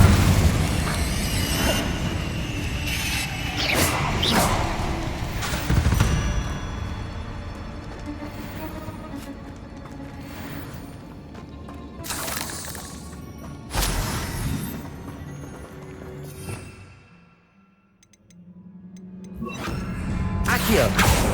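Spell blasts in Hogwarts Legacy combat, repeated booming bursts, crashes and shattering impacts in quick succession, loud and close over a rumbling background, with people talking throughout and a brief quiet lull near the end.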